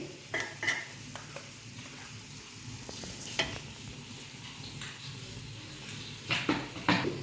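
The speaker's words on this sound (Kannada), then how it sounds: "ಇದನ್ನು ನೀಟಾಗಿ ಮಿಕ್ಸ್ ಮಾಡ್ಕೊಳ್ತೀನಿ" Mutton being stirred together with spice powder in a pot, a soft ongoing sizzle broken by scraping strokes and occasional clinks of a utensil against metal, fairly quiet and with no voices.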